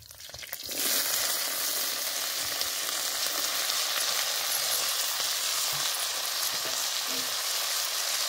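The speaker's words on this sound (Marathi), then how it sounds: "आता आपले जिरे लाल झाले तर आपण त्याच्यामध्ये आता मिरच्या टाकून घेऊ" Green chillies added to hot oil with reddened cumin seeds, crackling and sizzling loudly and steadily close up after a brief quieter start, with no talk.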